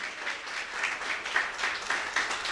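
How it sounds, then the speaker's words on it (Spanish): Church congregation clapping to welcome visitors, a soft, fairly distant patter of applause that swells and fades slightly over a couple of seconds, with no clear talk on top. "Un aplauso para Hender Galvis y para Maribel."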